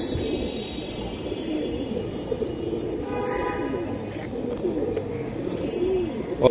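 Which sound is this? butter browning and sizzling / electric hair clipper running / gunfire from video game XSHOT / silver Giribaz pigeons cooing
silver Giribaz pigeons cooing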